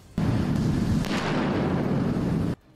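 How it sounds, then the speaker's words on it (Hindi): Mortar shell exploding in a war zone between Russian and Ukrainian forces: one sudden, loud, roaring blast that holds for over two seconds and then cuts off abruptly. "वहां मोर्टार गिरते ही तेज रोशनी के साथ ऐसा धमाका हुआ कि पूरा इलाका थर्रा गया।"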